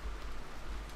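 Rain falls in the Rimworld video game during a heat wave, a faint, steady washing hiss with a low rumble beneath and no voices.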